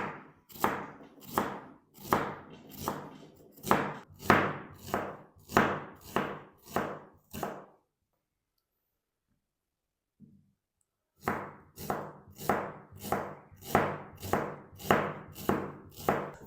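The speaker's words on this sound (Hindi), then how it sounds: "प्याज की कटिंग मैंने कर ली है" Onions chopped with a knife on a cutting board, a steady rhythm of crisp, close knocks in a row, then a pause of silence, then another even run of chops.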